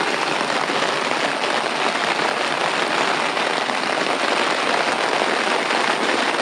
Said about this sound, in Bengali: অবিরাম বৃষ্টিটা পড়ে চলেছে